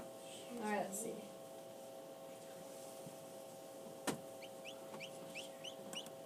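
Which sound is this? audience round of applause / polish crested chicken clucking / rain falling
polish crested chicken clucking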